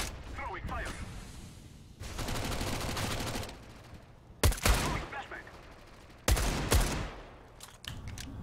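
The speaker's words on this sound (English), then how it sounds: "Just some nice shots with the USP there." Gunfire from a USP pistol in Counter-Strike during an eco round: two sharp bursts of close shots stand out around the middle and later, over a steady background of game noise.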